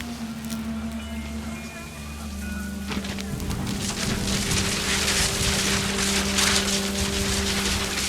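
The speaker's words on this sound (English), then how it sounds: "The rain came down in buckets then" Dense, steady rain hiss fills the scene in the game What Remains of Edith Finch, with low rumbling and a few tonal hums underneath, growing heavier partway through.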